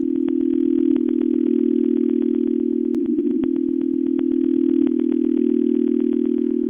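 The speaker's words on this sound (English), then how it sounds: "it almost sounds like an old school telephone dial tone or something like that" Processed radio signal shaped into a steady buzzy drone like an old telephone dial tone, sustained and loud throughout with a regular train of clicks and a brief crackly patch midway.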